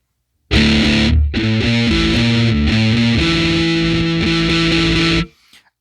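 Electric guitar rhythm part played through heavy distortion: thick, loud chugging chords in steady rhythm with a brief gap near the start, ringing out and cutting off cleanly after about five seconds.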